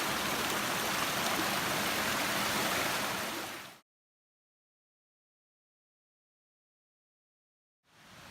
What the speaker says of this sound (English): Another one of the stream crossings.